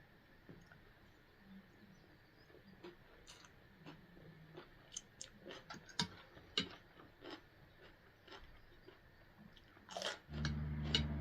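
Crispy fried pork rinds crunched close up during a meal of sticky rice and fried egg, with a run of sharp, irregular bites and chews and a louder burst of noise near the end.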